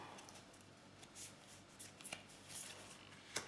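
Tarot cards are handled and shuffled close by, with soft papery riffles and flicks arriving in irregular bursts, quiet and unaccompanied by speech.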